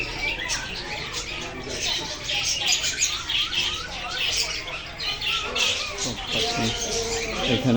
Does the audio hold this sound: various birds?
yes